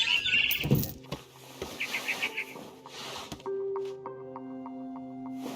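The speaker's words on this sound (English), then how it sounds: "Then I heard chirping outside my window. It was a barn swallow going back to her nest." Barn swallow chirping in a game scene: a few small bright chirps early on, then a faint rapid run of twitters, set against ambient background and a sustained tone later.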